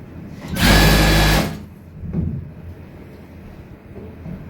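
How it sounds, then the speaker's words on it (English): A sewing machine stitches nightwear in one loud, fast burst of under a second, then falls to quieter room noise with a brief softer whir. "As I sew, I stretch along."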